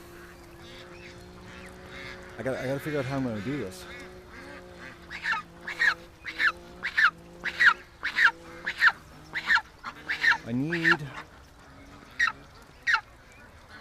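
A goose, one with a badly broken wing, honks repeatedly in short loud bursts, clustered calls coming close together, while someone talks quietly over parts of it.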